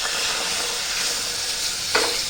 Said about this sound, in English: We'll add the milk gradually.